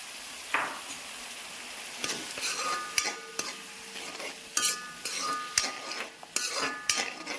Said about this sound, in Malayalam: അപ്പം നമുക്ക് കുറച്ച് പുളിവെള്ളം കൂടെ ഒഴിച്ച് കൊടുക്കാം.